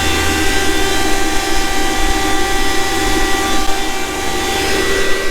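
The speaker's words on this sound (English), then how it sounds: "I should have shut the fan off" The fertilizer fan on a chisel plow used for deep banding runs without a break. It makes a loud, steady whirring drone with a constant hum and no speech.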